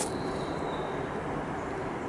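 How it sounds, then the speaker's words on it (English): A train passes some way off, giving a steady, faint broadband rumble that holds evenly for a couple of seconds with no voices over it. "There's a train."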